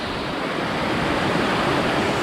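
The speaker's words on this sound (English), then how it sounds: "I made it to the waterfall" A glacier-fed waterfall in the French Alps pours with a dense, loud, unbroken roar of rushing water, steady throughout with no other sounds.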